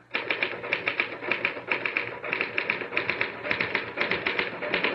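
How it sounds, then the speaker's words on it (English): Typewriter keys clatter in rapid bursts of continuous typing in a 1974 radio drama, with steady keystrokes broken by brief pauses and no voices over them. "Type until I tell you to stop."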